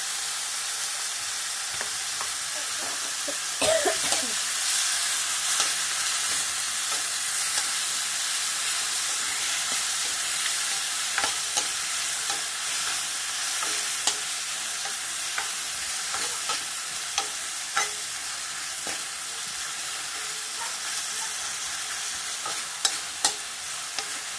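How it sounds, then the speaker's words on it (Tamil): Tomato, onion, green chili, curry leaves and a little turmeric sauté in a pan for a kurma, producing a constant close sizzle with scattered stirring clicks and scrapes throughout and no voices. "தக்காளி வெங்காயம் அதாவது நல்லா வதங்கிட்டுருக்கு"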